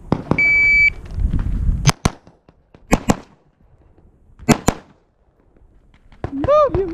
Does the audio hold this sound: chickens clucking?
no